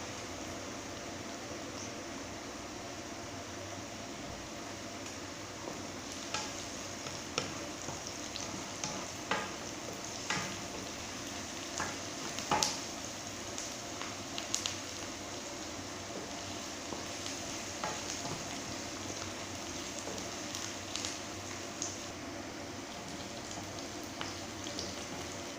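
Food sizzles and fries quietly in a pan, with scattered scraping and clinking as it is stirred, under a steady background hiss.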